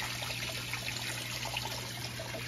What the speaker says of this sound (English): The water flow is so freaking strong.